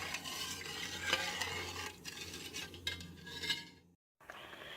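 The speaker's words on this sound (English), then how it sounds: "stir it and bring it to a boil, and boil it about 10 minutes" A spoon stirring fig juice in a pot, with repeated scraping and light clinks against the metal over a low simmering hiss, ending in a short silent gap before the bubbling resumes.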